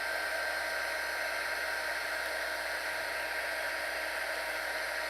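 A heat gun warms a sticker to loosen it, giving a steady, loud, even whooshing blow of hot air from start to end with no talk.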